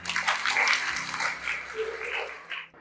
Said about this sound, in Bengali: হাততালি হবে ওর জন্য